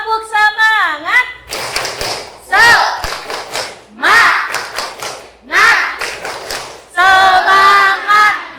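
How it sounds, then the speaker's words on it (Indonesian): Classroom tepuk semangat spirit chant: a class of students chants in unison, alternating with several loud bursts of rhythmic group clapping that come in repeated bouts close to the listener. "Tepuk semangat."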